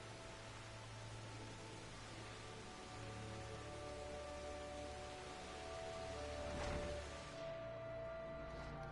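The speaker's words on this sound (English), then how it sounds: "Still raining over here." Rain falls steadily in the Final Fantasy XIV online game world, a soft continuous hiss with a faint musical tone underneath, quiet and unbroken throughout, with no talk.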